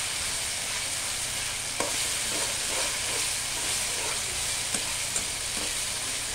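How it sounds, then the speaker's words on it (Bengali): Spices sautéing with ginger-garlic paste in a pan for a pangas fish curry: a continuous close hissing sizzle with faint stirring scrapes and a few light clicks, no talk. "ভালোভাবে কষিয়ে নিতে হবে, কারণ আদা রসুন বাটা দিয়েছি"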